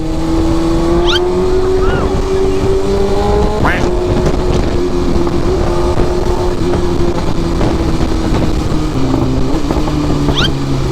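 A BMW big bike motorcycle engine hums loudly while riding, holding a steady drone with a few sharp revs and pitch shifts, under faint chatter and road noise.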